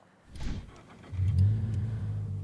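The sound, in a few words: Toyota GR86 boxer-four engine starting, MXP Comp RS exhaust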